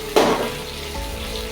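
Pre-fried kohlrabi tipped into a hot pan of spiced chicken masala, giving a sharp burst of sizzling that fades into a steady low frying hiss.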